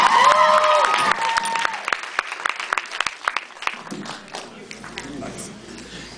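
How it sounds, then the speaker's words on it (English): A small studio audience claps and cheers, loud at first and then thinning into scattered claps that fade out, with voices mixed in. "let's clap it up"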